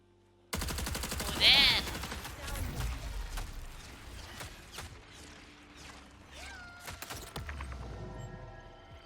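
Rapid gunfire from the V66 Lookout Rifle in the video game Marathon, a dense run of sharp cracks over a steady game ambience, with a louder burst early on and scattered shots afterward.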